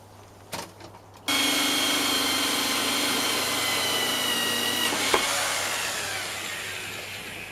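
A power drill bores into a plastic rain pipe, starting abruptly after a few light handling knocks and running as a steady, loud continuous whine for several seconds, close by.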